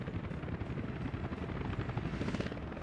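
Helicopters hover in the city-building game Workers and Resources, a steady rotor thrum with a low rhythmic chop, moderately loud and continuous, heard alone without talk.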